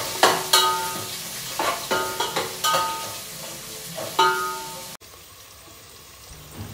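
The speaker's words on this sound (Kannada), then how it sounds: "ಇದು ಈರುಳ್ಳಿ ಸ್ವಲ್ಪ ಡಾರ್ಕ್ ಬ್ರೌನ್ ಆಗೋ ತನಕ ಫ್ರೈ ಆಗಬೇಕು." Onions and green chillies frying in a pan for a green chicken masala, with a close, crackling sizzle broken by several spoon scrapes and stirs before it cuts to a quieter, steady hiss.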